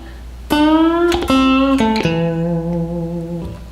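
An electric guitar plays a short blues phrase in A, three sustained notes with pitch bends sliding up into the target notes, played clearly and alone.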